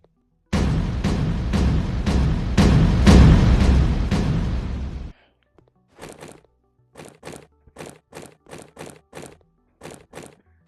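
TNT blocks detonating in the video game Animal Blocks: a long, loud rumbling blast of stacked explosions for several seconds, followed by a rapid series of short, sharp popping bursts in an irregular rhythm.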